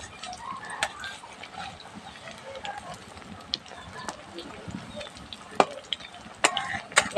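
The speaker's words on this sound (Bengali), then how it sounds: "এবারে উল্টে দিয়ে আরেকটা সাইড ভালোভাবে ভেজে নিতে হবে" Fish egg cheese balls frying in mustard oil in a pan and being flipped, giving a steady low sizzle with sharp clicks and taps from the utensil, growing busier toward the end.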